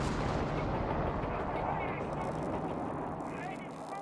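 Continuous rumbling artillery fire in a Company of Heroes 3 battle, a dense, heavy roar of booms that fades slightly toward the end, with a commentator talking over it.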